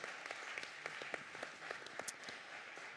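Applause from an audience at an eloquence competition final in Nancy, a soft, moderately distant patter of many hands with a few sharper individual claps standing out, steady for the full stretch.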